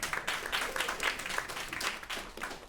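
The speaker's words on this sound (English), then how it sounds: "Please give them a round of applause." Audience applause at a talk event hosted in a WNYC space, a steady wash of many hands clapping at moderate distance, fairly quiet and even throughout with no voices on top.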